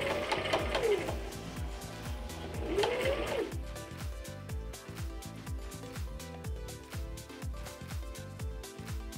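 A sewing machine stitching a dress, a fast, even mechanical chatter of repeated needle strokes up close, with a couple of rising whirs early on and no talk.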